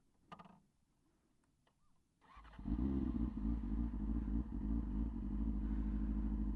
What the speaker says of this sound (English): Listen to that. This bike sounds amazing.